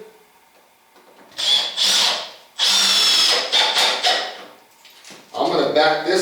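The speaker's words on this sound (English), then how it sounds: "I want 1 screw in the middle and 1 at the end. All countersunk." A power drill drives countersunk screws into a wooden reloading bench in repeated whirring bursts of about a second each, with short pauses between and a person speaking briefly near the end.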